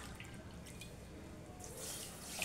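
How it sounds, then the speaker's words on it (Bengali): Water poured from a tap or jug into a pot holding two cups of sugar to make syrup for Bengali pantua sweets; a faint, soft trickle that swells slightly near the end. "2 কাপ চিনি দিয়ে এর মধ্যে আমি জল দেব"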